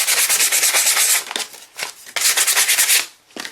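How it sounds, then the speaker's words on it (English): Sandpaper is rubbed over the bare, paint-stripped metal of an old Tootsietoys die-cast toy, making close, loud rasping strokes in quick back-and-forth bursts with short pauses between them. "We can actually get out some of our better sandpaper here now that we've got the paint off, and just rough it up a little"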